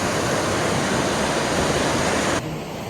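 A river in northern New Brunswick, Canada, flows hard and fast with a loud, steady, close rushing roar that continues without pause, briefly softening near the end.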